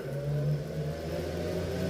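A scooter motor runs and revs close by with a low, continuous droning whir that stays fairly even throughout, free of clicks and with no talking over it.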